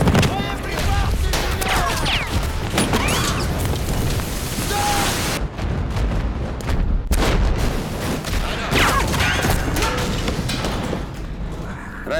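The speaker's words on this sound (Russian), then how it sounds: "Батарея открыла по нам огонь." Artillery battery firing in a Russian war film, dense booms and gunfire rumbling continuously with brief pauses, while voices speak over the barrage.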